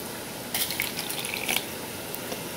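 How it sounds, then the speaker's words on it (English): Water is poured into a tempura dipping sauce of dashi, making a soft splashing trickle over steady background hiss, with brief brighter splashes in the middle. "Then you'll need half a cup of water."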